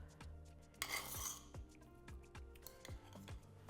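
Meatloaf ingredients go into a mixing bowl with a string of light clinks and taps of utensils against the dish, one louder scraping splash in the middle, close and steady with no talking.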